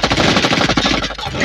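Rapid automatic gunfire from the Android shooter game Special Forces Group 3 rattles out in a loud, unbroken burst of close shots with no other sound.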